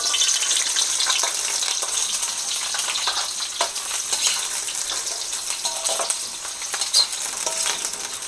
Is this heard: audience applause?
no